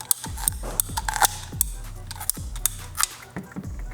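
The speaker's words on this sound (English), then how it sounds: "I've actually never cut these Samco hoses, but what I have is a pipe cutter." Repeated clicking and ratcheting of a sharpened pipe cutter biting into a Samco silicone coolant hose for an M1000RR motorcycle, with sharp close clicks over short metallic scraping turns.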